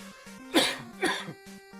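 Two sharp coughs from a man with a cold, close by, spaced about half a second apart, over a faint steady hum with short low tones between.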